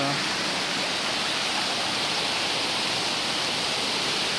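A waterfall roars close by, a dense, unbroken rush of falling water that stays loud and steady throughout.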